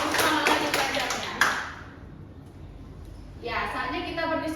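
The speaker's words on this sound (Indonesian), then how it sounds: "Boleh tepuk tangan untuk kita semua supaya lebih semangat lagi belajarnya." A classroom group clapping together briefly in a dense burst, which fades into near quiet before talking resumes over the room.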